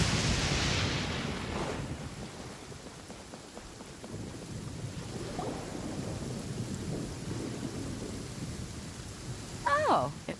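A rainstorm in the video game Genshin Impact brings steady rain with a low thunder rumble that fades after the first seconds, and a short bright effect sound close to the end.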